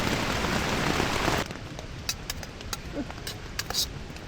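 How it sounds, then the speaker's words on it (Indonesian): Rain falls on a mountain hike up Gunung Kahung (1456 m) at a campsite before dawn: a dense, loud rain hiss cuts off after about a second and a half, leaving scattered close drips and patters. "Hujan, masih hujan."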